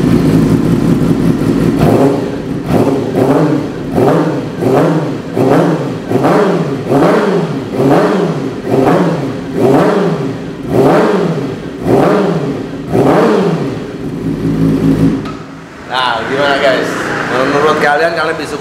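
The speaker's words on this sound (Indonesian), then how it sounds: "Kita coba tes pure sound dari R6." A Yamaha R6 motorcycle with a carbon Thermic Noni exhaust is revved repeatedly at close range: about a dozen loud, evenly spaced throttle blips rise and fall, then it settles to a rough idle at the end.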